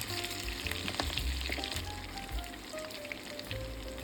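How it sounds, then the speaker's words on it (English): Ricotta meatballs sear in a pan toward a deep blackened crust, giving a soft, steady crackling sizzle with scattered pops, close but quiet and continuous, with no voices. "sear the meatballs until they develop a deep blackened crust on all sides"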